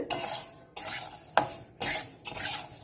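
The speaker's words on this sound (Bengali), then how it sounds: "এটা শুধু একটু নেড়ে নিই" Cooking vegetables being stirred in a pot, four distinct scraping strokes of a spoon against metal over a faint sizzle.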